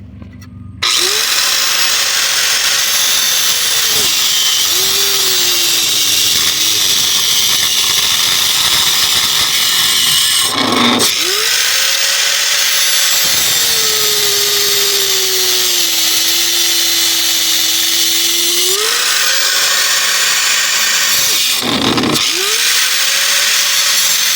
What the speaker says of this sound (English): get this off, I'm gonna use an angle grinder. So it might get noisy